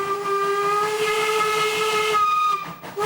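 Steam locomotive K88, a restored New Zealand engine, sounds a loud, sustained chime-like whistle held steadily for over two seconds over a rushing hiss of steam, then cuts off abruptly.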